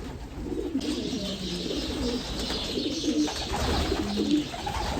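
Pet pigeons feeding on a mixed grain feed, cooing in soft rolling phrases nearby with a steady hiss of the loft behind them, no talk.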